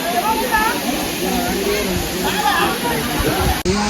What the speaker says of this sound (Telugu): ఇక్కడ నుంచి ఇక్కడ మొత్తం వాటర్ మంచిగా వస్తాయి.